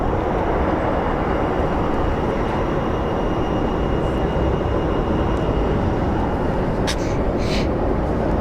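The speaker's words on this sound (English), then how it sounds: "So that 767 is departing for Atlanta" Boeing 767 airliner departing Phoenix Sky Harbor for Atlanta, a loud, continuous broadband jet roar that stays steady and close throughout, with faint brief higher tones near the end.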